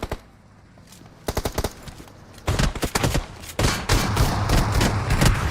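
Shotgun blasts in PUBG Mobile during a league finals match: scattered sharp shots, then louder clustered bursts of close gunfire that thicken toward the end, with no talking.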